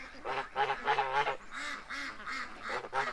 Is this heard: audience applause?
no